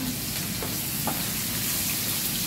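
Onions and curry leaves fry in a pan with a steady, close sizzle and hiss that runs unbroken throughout, with a couple of faint clinks of a utensil stirring.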